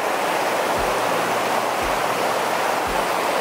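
A river in the remote fells along the Cumbria Way rushes steadily and loudly close by, a dense unbroken roar with a few soft low thumps underneath and no talking.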